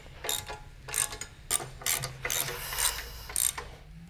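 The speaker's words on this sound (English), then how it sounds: "and then of course you run the screw down" A hold-down clamp screw is run down on a waterjet table, making a quiet series of short ratcheting, clicking bursts at a roughly regular rhythm, close by, with no talking.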